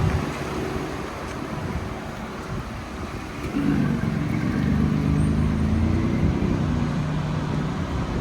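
A pickup truck on 12-wide wheels with Rough Country Vertex adjustable shocks cruises along, a continuous low road and tire rumble with wind buffeting that swells louder midway.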